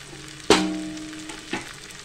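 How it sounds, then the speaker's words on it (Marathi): Onion and chilli pieces frying for veg biryani, a steady close sizzle with a sharp burst as pieces hit the hot oil, followed by a second smaller clatter about a second later, and no voices. "आता आपला कांदा भाजत आलेला आहे।"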